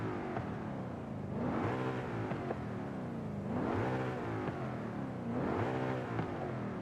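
A car engine in a racing video game revs up and drops back three times in a steady cycle, each rise a loud, climbing whine that then falls away, with no one talking.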